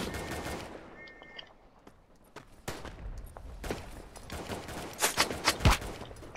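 Gunfire in the WWI shooter Tannenberg, with scattered sharp rifle shots and short bursts, some distant and some close, growing denser and louder toward the end over faint background ambience.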